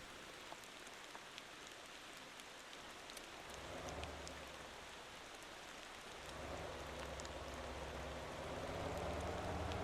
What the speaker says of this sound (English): Second or third time today that it's raining?